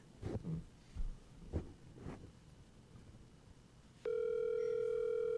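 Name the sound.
telephone ringing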